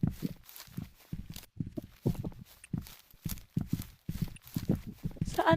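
Horse hooves clip-clop in a video game, a steady run of evenly spaced thumping steps at close range that carries on through the whole stretch.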